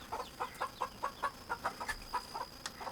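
Chickens clucking inside a coop on a rainy day, a quick run of short, evenly spaced clucks close by, with a steady thin high hiss running underneath.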